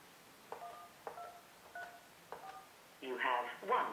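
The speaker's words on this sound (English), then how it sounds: "Enter your voicemail passcode to enter the mailbox" Telephone keypad tones as a voicemail passcode is entered on a Mitel MiVoice desk phone: four separate beeps spaced about half a second apart, followed by a quick burst of two or three more, clear and close.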